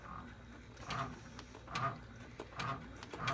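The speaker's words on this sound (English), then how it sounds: "Now this is going to do the top stitching, and that's a bean stitch." An embroidery machine running a bean stitch for top stitching on an in-the-hoop double zipper clutch, a rhythmic mechanical chatter pulsing roughly every second, close and moderately loud.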